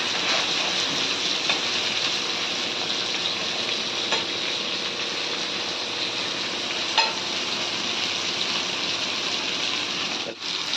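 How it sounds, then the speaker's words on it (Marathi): Eel and kateri fish frying in a pan, a steady, dense sizzle and crackle of hot oil that holds loud and close throughout, with a couple of faint knocks. "आता पलटी करून घेऊया आणि पाच मिनिट त्या साईडनी फ्राय करूया"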